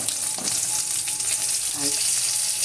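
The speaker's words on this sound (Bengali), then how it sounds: "দেখুন কড়াইতে দিয়ে দিয়েছি কালো জিরে" Black cumin seeds frying in oil in a wok for a spicy fish curry masala, a steady close bright sizzle throughout with a few small stirring clicks and no talking.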